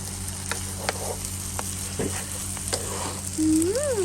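Glass noodles with egg, cabbage, tomato and soy sauce stir-fry in a pan, giving a loud steady sizzle with periodic scrapes and clanks of the spatula, and a short rising-and-falling tone near the end.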